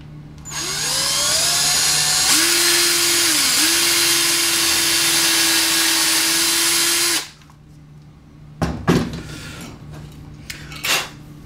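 A power drill bores a hole through a knife handle during a trapper knife build, its motor whining loud and steady for about seven seconds before stopping, followed by a few clattering knocks of handling the piece.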